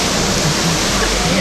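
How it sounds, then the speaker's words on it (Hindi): Rain-swollen yellow water flows fast and heavy, a loud, dense, steady roar close by. "बरसात के कारण जो सफ़ेद पानी था वो पीला पानी आ रहा है"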